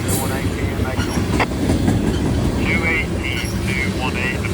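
A CSX or Norfolk Southern freight train rolls past close by with a steady, loud rumble and rail clatter, with brief squeals of wheels on track near the end and a voice talking underneath.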